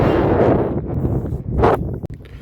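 Strong wind buffets a van parked near the Jordan border, producing a loud, continuous roaring rush with gusts that swell and fade, and no speech.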